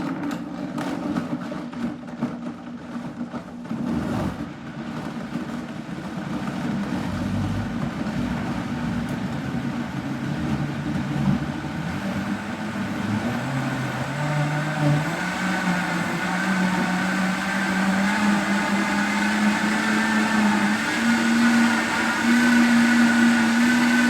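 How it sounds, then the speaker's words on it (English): A Vitamix blender whirs continuously blending ginger juice, its motor pitch climbing steadily as the speed is raised, loud and close with no talking. "I've got my blender."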